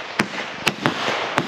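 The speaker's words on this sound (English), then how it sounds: "Oh my gosh, it's exploding everywhere." Fireworks go off on a lawn during a Fourth of July family celebration, with four sharp, loud pops at irregular intervals over a hissy background and no voices.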